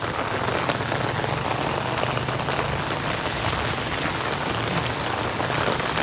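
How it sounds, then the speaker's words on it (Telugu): Heavy rain pouring down outdoors in Malaysia, a loud, dense and unbroken hiss of drops hitting surfaces, steady from start to finish with no voices. "ఎంత వర్షం అంటే అంత వర్షం."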